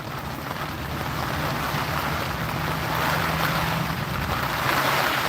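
Storm wind gusts roar steadily outside a canoe shelter, a dense broadband rush with slight swells in strength, loud and continuous with no voices.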